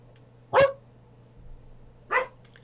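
A dog outside, being walked past by a neighbor, gives two sharp single barks about a second and a half apart, moderately close against a quiet room hum.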